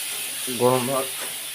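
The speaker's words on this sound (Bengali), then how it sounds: "তো লঙ্কা রসুনগুলো ওখানে দিয়ে দিলাম, দিয়ে একটু ভাজে নিচ্ছি।" Chili and garlic frying in hot oil, a steady soft sizzle and hiss running throughout, with a short stretch of voice briefly over it in the middle.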